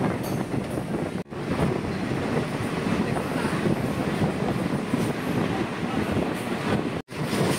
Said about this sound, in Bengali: ট্রেন বিলোনিয়া রেলওয়ে স্টেশনে এসে পৌঁছলো।